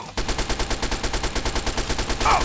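A gun in Fallout 3 fires in a rapid, loud, steady burst of shots, evenly spaced like automatic fire, running the whole time with no voices.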